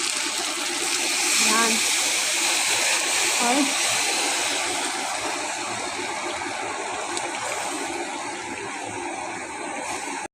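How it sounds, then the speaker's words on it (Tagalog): Water is poured into a pot of Japanese chicken curry, giving a continuous splashing gush that later settles into a steadier stream, with brief talk at the start. "Paglagyan natin tubig, hayaan natin siya ng 15 minutes."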